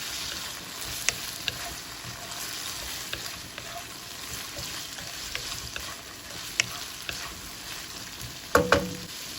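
Ingredients for a glass noodle (sotanghon) soup are stirred in a pot over a steady sizzling hiss, with scattered utensil clicks and a louder clatter of the spoon against the pot near the end; no speech.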